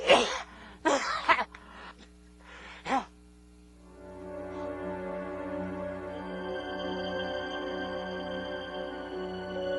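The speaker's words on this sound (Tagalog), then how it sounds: "Grabe na yung ubo mo pa eh." A few sharp, raspy coughs or throat clearings in quick succession, close by, followed by a steady hum of background noise.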